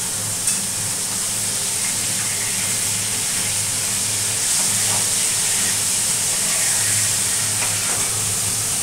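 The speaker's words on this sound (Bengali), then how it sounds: "মাছগুলি ভাজা হতে থাকুক" Bele fish frying in a pan with salt, sugar and turmeric, a steady close sizzle and hiss with a low hum underneath, continuous for several seconds without talk.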